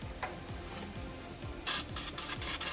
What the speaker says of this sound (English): I'm going to spray a little bit of grapeseed oil on the bread